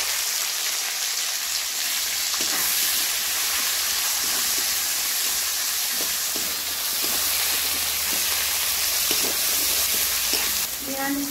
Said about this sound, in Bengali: এরপর আমার কুচিয়ে রাখা পেঁয়াজ কুচিগুলো দিয়ে দিচ্ছি